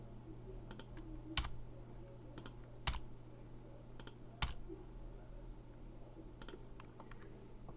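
Computer keyboard keys and mouse buttons clicked while edges are selected and extruded while modeling a fork in Blender; sparse, sharp clicks and key taps, some in quick pairs, over a steady low hum with no talking.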